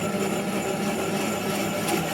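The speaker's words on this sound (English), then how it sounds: "the lathe is going to be spinning for this bit about 180 RPM" A wood lathe turns a buckeye bowl blank at about 180 RPM, giving a steady, loud, continuous whirring drone with no breaks or talk.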